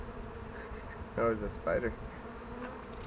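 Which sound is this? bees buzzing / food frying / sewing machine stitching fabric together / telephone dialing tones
bees buzzing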